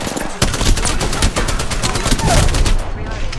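Rapid, loud bursts from the Spitfire light machine gun in Apex Legends, a continuous stream of close automatic fire running through the short clip before cutting off abruptly.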